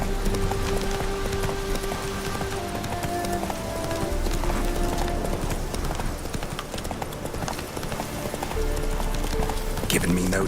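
Galloping hooves of Roach, a horse in The Witcher 3, a rapid rolling clip-clop beat running steadily under game ambience and a voice talking.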